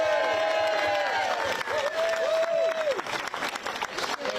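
Applause and cheering from a crowd at an outdoor migrant protest rally in Waterlooville, a broad wash of clapping with whoops, while a loud voice carries over the top.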